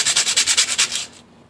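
Rhythmic back-and-forth sanding scrapes on the surface of a cracked engine case previously patched with J&B Weld, about ten quick strokes close up, then trailing into quiet.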